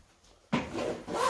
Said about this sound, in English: Zipping it up is also a fairly simple affair.